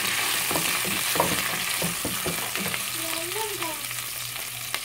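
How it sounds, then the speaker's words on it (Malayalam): Ginger and garlic frying in hot oil for samosa masala, a steady close sizzle with scattered stirring clicks and scrapes of a spoon in the pan, no voices. "ഇഞ്ചിയും വെളുത്തുള്ളിയും കൂടെ ഒരുമിച്ചിട്ടൊന്ന് മൂപ്പിക്കണം."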